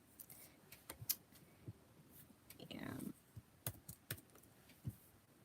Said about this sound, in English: Just typing something in.